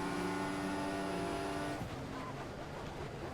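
A Formula One car in the F1 2014 racing game roars past with a steady high engine whine, which drops in pitch and thins out as the car pulls away; no one speaks.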